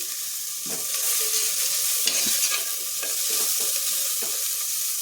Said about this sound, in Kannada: ನೋಡಿ ಈಗ ಇದು ಫ್ರೈ ಆಗಲಿ.